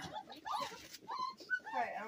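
Five-week-old goldendoodle puppies whimper and yip in high, wavering cries close by, several overlapping squeals spread across the moment, with people talking softly underneath.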